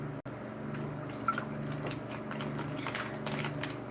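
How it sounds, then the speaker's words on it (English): Someone takes a sip of water, with soft, close liquid slurps and drips over a quiet room hum, preceded by a brief click and with no talk. "I'm just going to take another sip of water here."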